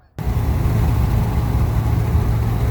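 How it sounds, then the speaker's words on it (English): Steady tire and road roar inside a truck on Atturo Trail Blade MT mud-terrain tires cruising near 70 mph, a low, constant rumbling drone that begins abruptly after a split second of silence. "Road noise is actually quite minimal with these tires, considering I'm going almost 70."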